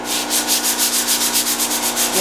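Rhythmic back-and-forth rasp of a sanding block holding a quarter sheet of sandpaper rubbing wood by hand, steady strokes at a quick pace, close up with no talking.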